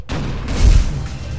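Hand cannon firing in the video game Tower of Guns: a short, heavy booming blast with a deep low rumble that swells and lingers for about a second, no voices.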